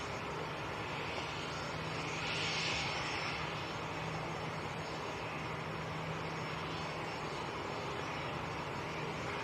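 Jet aircraft taxiing at Manchester Airport, a steady broad engine roar with a faint whine, held at a constant moderate level for the whole stretch with a slight swell early on, distant and continuous.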